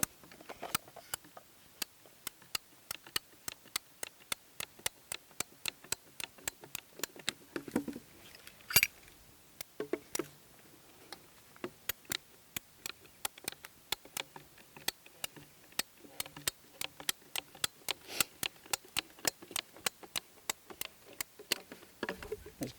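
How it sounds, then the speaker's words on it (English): Pipe cutters snipping through a damaged section of rural poly pipe, giving a steady run of sharp, close clicks and ticks with quiet gaps between them. "cut approximately 200 or so millimetres away from the damaged section of the pipe"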